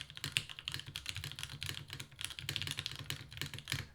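A rebuilt classic TKL mechanical keyboard with GMK keycaps is typed on steadily nearby, with rapid clacky keystrokes in uneven bursts and a faint switch rattle and ping, with no voices.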